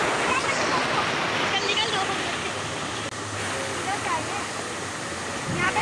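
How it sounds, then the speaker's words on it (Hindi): Rough June–July sea surging against the shore at Hawke's Bay beach in Karachi, a dense continuous wash of churning water with no voices. "पानी के जो झटके हैं वो ऊपर तक आके लग रहे हैं ज़ोर ज़ोर से"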